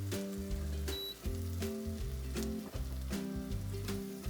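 Ingredients sizzle and fry in a pan with a steady crackle while rhythmic stirring knocks sound throughout, and music-like tonal notes run underneath.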